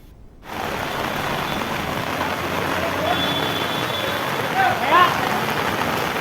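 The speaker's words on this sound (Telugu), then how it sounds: "నిజామాబాద్లో కుండపోత వర్షం కురుస్తోంది" Heavy downpour in Nizamabad starts abruptly and then holds as a dense, loud, steady hiss of rain on surfaces, with faint road traffic mixed in.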